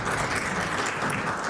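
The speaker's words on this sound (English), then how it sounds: "Please join me in applauding the volunteers who dedicated their time and energy to this grassroots efforts" Sustained applause from members of a legislative assembly honouring community pantry volunteers, a steady dense clatter of many hands filling the chamber without a break.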